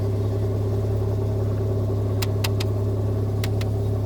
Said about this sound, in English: now it's running and idling perfect